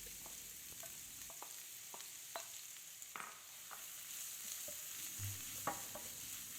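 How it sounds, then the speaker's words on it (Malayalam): Long-sliced large onions frying in sunflower oil, stirred with a spoon: a steady faint sizzle with scattered light scraping clicks throughout, no voices. "ഓയിൽ ചൂടായതിന് ശേഷം 2 വലിയ സൈസിലുള്ള സവാള നീളത്തിൽ അരിഞ്ഞത് ചേർത്ത് കൊടുക്കാം."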